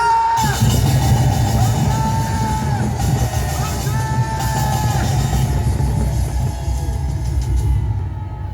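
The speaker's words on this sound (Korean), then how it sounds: "다같이 간절한 마음을 담아서 5초간 대한민국 만세 하며 소리 지르면서" A rally crowd of protesters calling for President Moon Jae-in's resignation roars together in unison, shouting 'Daehanminguk manse' for several seconds as a loud, sustained mass of voices with whoops and bellows.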